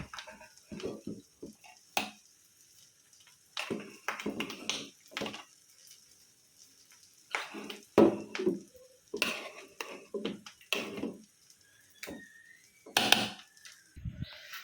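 Eggs frying in a small pan are turned over, giving a string of sharp scraping and tapping utensil clicks and clatters with quieter sizzling between them, close and fairly loud, with no talking.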